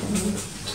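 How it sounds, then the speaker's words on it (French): A neighbour's dog makes brief breathy, panting-like vocal sounds nearby, steady and moderately loud over a short stretch, with no clear distinct barks. "Le chien du voisin qui est encore en train de gueuler"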